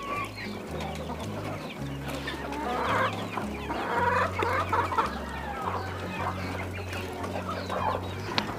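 A flock of chickens clucks and murmurs continuously while pecking at homemade fish-waste feed meant for Muscovy ducks, with a low steady hum underneath and the clucks rising and falling over several seconds.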